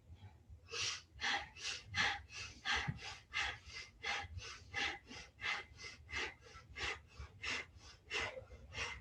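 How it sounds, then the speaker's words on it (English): Rapid, forceful nasal breathing of Kundalini yoga breath of fire, about twenty-two sharp, evenly paced pumps over steady low background hum, close and fairly quiet. "Good, powerful, steady breath, almost like a little breath of fire."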